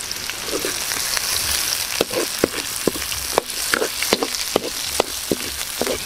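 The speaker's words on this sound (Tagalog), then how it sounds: "tapos na natin gisa ang ating mga sangkap" Garlic, chili and onion sautéing in a pan for Filipino tumbong, with a steady sizzle and frequent sharp scrapes and clicks of a spatula or ladle stirring, close and alone.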